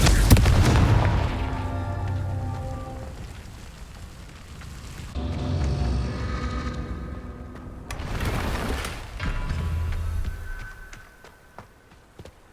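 Repeated Confringo blasting-spell explosions in the Hogwarts Legacy video game, loud booming bursts near the start and again around the middle and later, each decaying into rumbling debris, with no talk.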